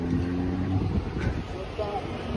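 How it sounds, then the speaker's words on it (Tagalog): Strong wind buffets the microphone with a constant low rumble, and a voice speaks underneath it. "Sobrang mahangin ngayon dito sa amin."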